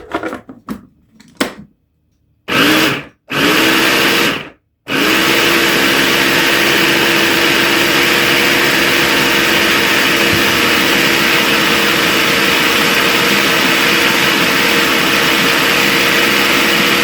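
A food processor pulses basil leaves for pesto in a few short loud bursts separated by silence, then runs steadily for a long continuous stretch with a droning motor whine.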